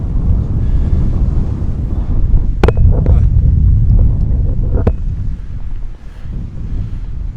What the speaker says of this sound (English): that wind's grabbing the camera here, rocking the gimbal